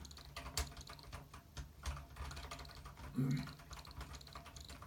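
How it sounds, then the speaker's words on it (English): A computer keyboard clatters quietly and close, with irregular bursts of clicky keystrokes and a couple of louder knocks. "Excuse the chatter of the keys."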